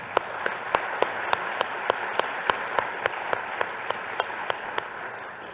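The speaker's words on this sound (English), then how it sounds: "Please give everybody a round of applause." Audience applause at an awards luncheon honoring award winners: a steady wash of many hands clapping with sharp, evenly spaced claps standing out, moderately distant and sustained for several seconds without speech.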